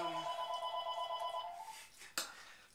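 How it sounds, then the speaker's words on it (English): A telephone rings in a home kitchen with a bright electronic trill that sustains for about a second and a half and then stops, followed by a short click. It is moderately close and heard alone, without talk. "of course, the phone's going to ring in the middle of this"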